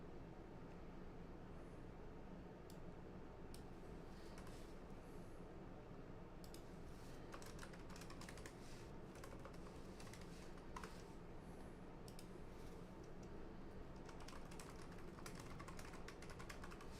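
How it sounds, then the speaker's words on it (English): Faint keys are typed on a computer keyboard in scattered bursts of quick clicks over a steady background hiss. No one speaks. "I'm typing it in."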